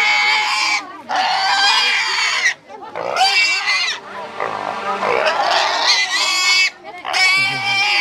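A pig squeals shrilly and loudly as a Hmong woman carries it by hand through the busy Cán Cấu highland market, with repeated close squeals and only brief pauses.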